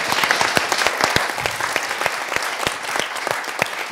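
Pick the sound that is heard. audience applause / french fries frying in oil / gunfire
audience applause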